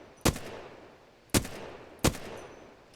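Flatline assault rifle in the Apex Legends video game firing three separate single shots, each a sharp loud crack with a short decaying tail, spaced about a second apart.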